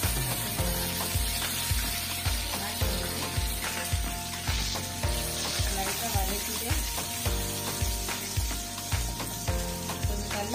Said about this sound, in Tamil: எண்ணெய் கொஞ்சம் நல்லா காஞ்சதுக்கு அப்புறம் கடுகு உளுந்த பருப்பு கருவேப்பிலை இதெல்லாம் ஆட் பண்ணலாம்